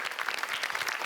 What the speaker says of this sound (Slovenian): Velik aplavz za odlično borbo, pa tudi za osnovno šolo Gustava